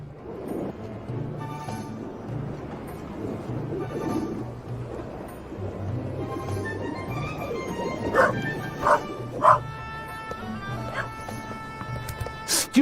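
Dog barks and whimpers in the video game The Raven, with short yips and whining breaking out over a steady low game ambience, with a burst of sharper barks near the end.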